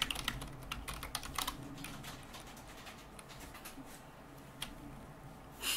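Someone types on a computer keyboard, bursts of quick clicking keystrokes near the mic that thin out to scattered taps and a brief pause before resuming.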